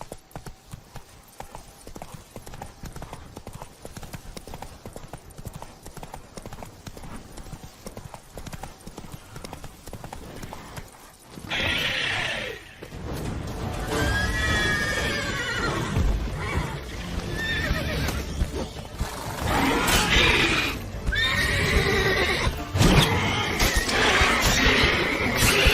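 A horse in The Witcher 3 clip-clops along at a steady gait, near and loud, then whinnies, with the hoofbeats gathering pace and game ambience behind.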